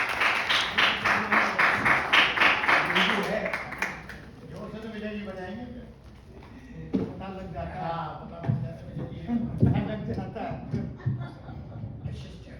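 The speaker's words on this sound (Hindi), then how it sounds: "जोर से तालियां हो जाएं" An audience claps to welcome a poet at a poetry gathering, a short burst of steady clapping at the start that quickly gives way to a voice speaking close and clearly.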